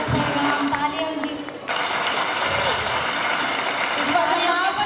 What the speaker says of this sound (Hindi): Audience, please give a huge round of applause.